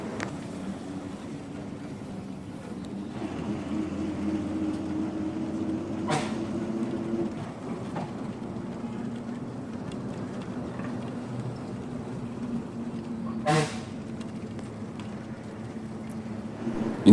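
A bus climbing a mountain road toward Munnar gives a steady low engine drone with wind rush throughout. Faint clicks and knocks come through now and then, with no voices.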